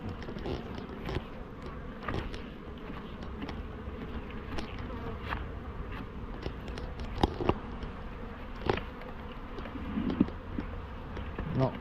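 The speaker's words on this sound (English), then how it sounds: "Look at these wasps just camped out" Steady insect buzzing fills the air, several wasps droning close by around a beehive with occasional louder passes, over a faint low background hum.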